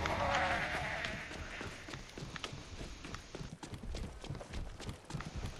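A heavy enemy stomps around in Dead Island 2 with irregular thudding, clopping footfalls, moderately close, over a faint background hum.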